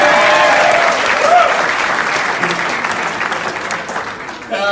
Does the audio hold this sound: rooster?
no